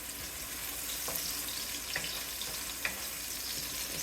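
Chopped green onions sauté in olive oil over medium-high heat, giving a steady close sizzle and crackle with a few soft stirring scrapes and no talking.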